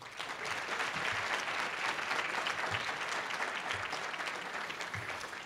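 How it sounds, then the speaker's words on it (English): Applause from an audience at a leadership awards ceremony as an honoree is recognized: an even, continuous wash of many hands clapping, moderately distant and steady throughout. "Please give us a round of applause for Sarah"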